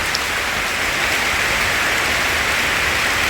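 Heavy rain pours through a forest, a loud, even wash of drops pattering on leaves and ground all around, steady and unbroken with no one speaking.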